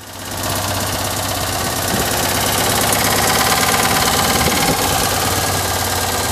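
A Citroën Méhari engine idles steadily after a choke start, a loud, continuous mechanical drone with a fast rough pulsing running throughout and no speech.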